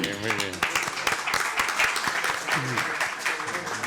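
An audience applauds at a round-table event about a Cáceres club's centenary, a steady wash of clapping with voices and cheers mixed in throughout.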